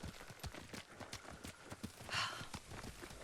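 A horse moves in the video game Ghost of Tsushima, its hooves clip-clopping in a quick, steady rhythm close by, with a brief brighter rustle midway and no talk.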